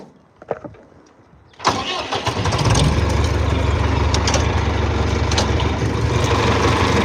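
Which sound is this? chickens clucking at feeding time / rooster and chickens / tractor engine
tractor engine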